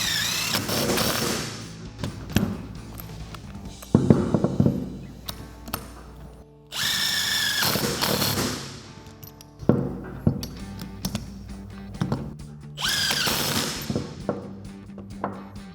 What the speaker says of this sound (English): we can take an 8mm Allen socket to tighten down our 3 bolts.